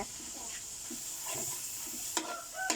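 Stink beans are stir-fried with fresh shrimp and chili paste, giving a soft, low sizzle with gentle stirring. Two sharper spatula scrapes against the pan come near the end.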